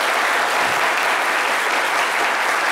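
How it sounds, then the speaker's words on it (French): Steady applause from an audience at a midday talk, a dense, unbroken patter of many hands clapping at constant loudness. "ça mérite des applaudissements, on peut dire"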